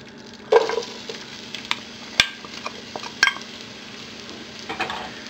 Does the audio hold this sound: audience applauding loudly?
no